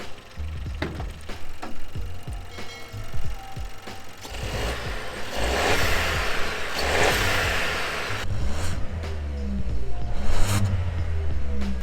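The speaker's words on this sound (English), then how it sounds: "And we'll try it once more with the bonnet open." A stock VW Up GTI with its bonnet open idles and then revs repeatedly, the engine swelling loud and close in several sustained pulls.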